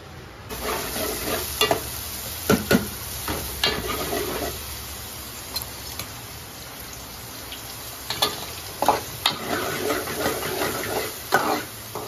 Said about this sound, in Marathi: मंडळी आता आपलं टोप गरम झालेलो असा, तर तेल टाकूया आपण।